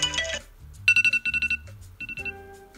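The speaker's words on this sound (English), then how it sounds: "The default alarm is radar" An iPhone's default Radar alarm tone: quick bursts of bright, repeated electronic pulses in short groups, clear and close with no talking.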